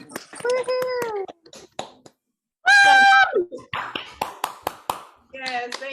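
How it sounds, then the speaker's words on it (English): Participants in an online meeting come off mute to applaud, with scattered close hand claps and taps in uneven bursts, mixed with cheering voices and a voice. "give her a round of applause and make some noise"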